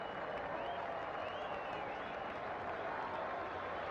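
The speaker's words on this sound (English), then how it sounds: "There's not a space to be had in this ground, standing and cheering" A packed crowd of 25,000 at Queen's Park Oval applauds and cheers West Indian openers Desmond Haynes and Brian Lara walking out, a steady distant wash of clapping and shouts with whistles.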